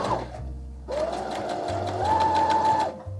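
Sewing machine stitching trousers for a wedding suit, running in steady bursts with a pause and a higher-pitched whir toward the end, close and clear with no talking.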